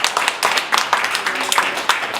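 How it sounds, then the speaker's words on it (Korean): A small crowd claps at a Korean commemorative gathering, a short burst of scattered, uneven handclaps heard close up, with a voice briefly mixed in. "장덕분 사장님 박수 한번"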